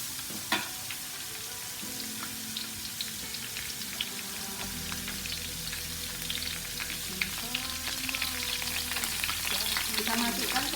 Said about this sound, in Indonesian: bawangnya sudah wangi, kita masukkan wortel